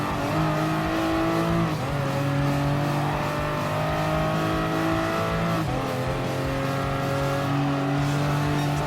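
A race car engine in Gran Turismo Sport drones at high revs while closing on and passing a Porsche, steady harmonic whine that drops and climbs with each gear shift, loud and continuous with no talking.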